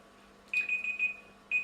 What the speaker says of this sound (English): That's a beeper.